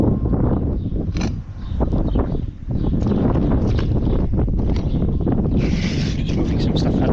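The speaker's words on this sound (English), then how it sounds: "I don't want the wind to affect our audio here" Strong gusty wind buffeting the microphone outdoors on a house roof, a loud close low rumble with rustling bursts that dips briefly and then surges again.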